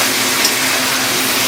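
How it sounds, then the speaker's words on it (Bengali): Spice-paste water is poured into a pot of country chicken curry, a loud, close, steady rushing gush of liquid with no talking. "জল ঢেলে দিয়ে এবার, কারণ এটা মশলা বাটার জল"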